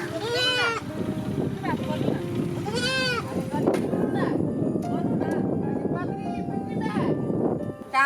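A goat bleats loudly and close by in a few wavering calls, over continuous background voices and street noise.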